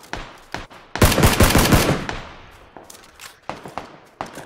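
Gunfire in the battle royale game PUBG: a few single shots, then a loud rapid automatic burst lasting about a second, followed by more scattered sharp shots, close and punchy.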